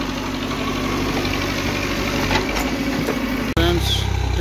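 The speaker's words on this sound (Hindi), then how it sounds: "फ्रेंड्स, ट्रैक्टर लोड होकर निकल चुका है" A loaded tractor's engine pulling away, a steady mid-pitched diesel rumble with knocking vibration, briefly interrupted by a sharp break before resuming slightly louder.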